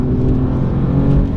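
An Alfa Romeo Giulia Quadrifoglio with 51,000 kilometres on it, driven in Italy, accelerating: a loud, close, steady engine roar that holds for the whole moment, with no voices.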